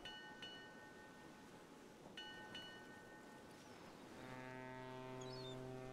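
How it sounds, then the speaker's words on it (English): Deep, sustained tonal boat horn blasts swell in over a steady background rumble, with fainter tonal hoots earlier, in the video game Gibbous: A Cthulhu Adventure. "I hear boat noises,"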